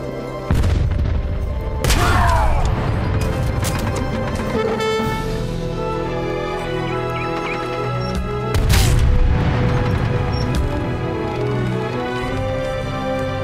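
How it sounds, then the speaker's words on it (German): A heavy stationary cannon in the Age of Empires 3 strategy game fires booming blasts at an enemy windmill, with two big impacts standing out over a busy layer of battle and building noise. "achten Sie mal darauf, was unser Riesendonnerrohr mit der feindlichen Windmühle anstellt"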